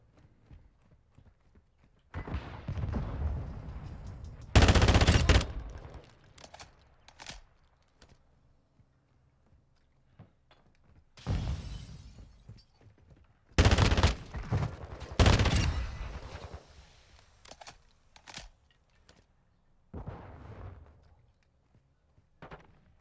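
Bursts of automatic and single-shot gunfire in Call of Duty Modern Warfare 2, several loud volleys separated by quieter gaps, close and punchy, with no talking.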